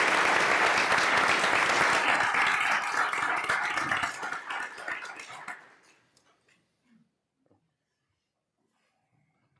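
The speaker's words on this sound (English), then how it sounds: "if we can get one more round of applause and congratulations to all of our National Merit finalists and commended students" An audience at a school board of education meeting honoring students claps in steady, dense applause that holds for about four seconds, then thins and fades out into near silence.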